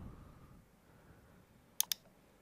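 Two sharp computer mouse clicks in quick succession, close and distinct, while selecting a folder option in Microsoft Outlook against a quiet background.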